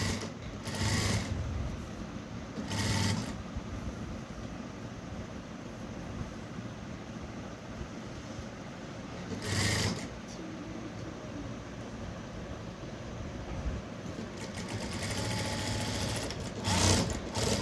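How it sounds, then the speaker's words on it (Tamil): Sewing machine running steadily as it stitches four layers of blouse and lining fabric together, a close, quiet whirring hum with a few brief louder surges, no talk. "அப்படியே 4 துணியும் லைனிங் துணி, ஜாக்கெட் துணி சேர்த்து அப்படி தைச்சிட்டு வந்து இப்படி வெளியில் வந்துடணுங்க"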